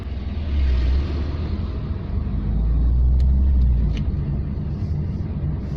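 A Dutch-market Talbot Tagora with the Simca 2.2 engine drives along, its motor giving a steady, close, low rumble that swells slightly. Faint ticks sound over it, and no one speaks.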